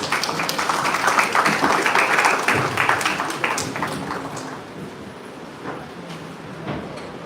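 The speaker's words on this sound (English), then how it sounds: "Let's welcome respected sir with a round of applause." Sustained applause from an audience at a national conference on personalised medicine, dense clapping loud at first and gradually thinning and fading toward the end.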